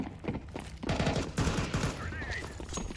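Rapid bursts of video game gunfire crackle in a quick fusillade, loud and dense through the middle, with a voice speaking faintly underneath.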